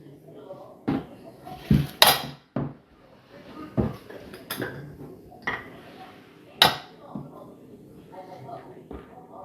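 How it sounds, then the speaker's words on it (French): A sealed plastic container lid holding beignet dough is pulled open in a series of sharp clicks, pops and clattering knocks, with a person talking between the sounds. "pour ouvrir le couvercle, parce que évidemment, là, il est bien scellé, on va juste tirer un petit peu là"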